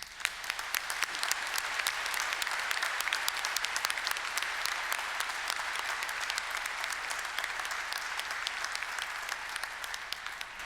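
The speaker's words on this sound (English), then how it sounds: "now I ask the members of the audience to applaud your accomplishments" At a Monash University graduation ceremony, the audience applauds the graduates with dense, steady clapping from many hands that fills the hall at an even level throughout, with no voices over it.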